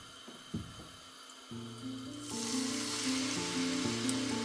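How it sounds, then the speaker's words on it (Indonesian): Chopped spice paste hits a little cooking oil in a pan, giving a steady sizzle that swells and stays loud and close, with faint stirring scrapes and no talk, while cooking chicken-feet noodles. "Dengan minyak goreng sedikit saja ya, untuk menumis biar nanti hasilnya bagus."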